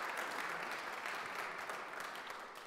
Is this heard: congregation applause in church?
yes